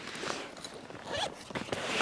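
A quick zipper pull on the top pocket of a Rehose Buddy 30 everyday-carry backpack, close and crisp, with a short rasping run and faint handling noise.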